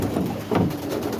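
Roller pigeons cooing softly in a loft, a brief low murmuring coo with a slight swell midway, close and fairly steady.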